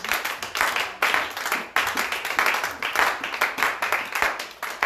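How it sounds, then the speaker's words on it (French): A church congregation claps and cheers in praise, dense continuous applause filling the room with rhythmic bursts and a few voices mixed in. "On va encore rajouter des acclamations pour la gloire de Dieu."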